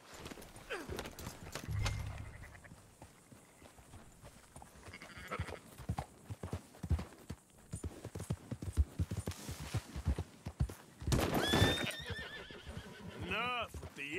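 Horses in Red Dead Redemption 2 herding sheep and goats, with hoof clip-clops, whinnies and bleating animals mixed under frequent talk.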